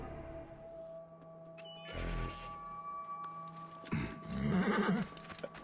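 A horse in Assassin's Creed Origins gives a loud, shaky neigh against a steady game ambience, with hoof clip-clops and a rustling burst earlier.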